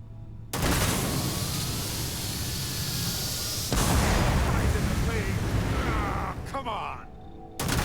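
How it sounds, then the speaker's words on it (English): A fire barrel is shot in the video game Starfield, setting off a loud, sustained roaring blast that swells again midway and tails into a crackling burn, with game sounds around it. "I'm gonna shoot this fire barrel."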